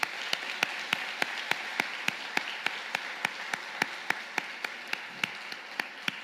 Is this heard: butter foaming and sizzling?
no